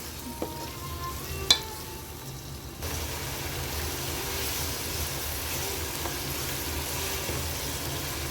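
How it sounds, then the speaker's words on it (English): Onions frying in a pan for chicken kabsa give a steady sizzle that grows louder partway through, with a couple of sharp utensil clinks early on. "you have to fry the onions more"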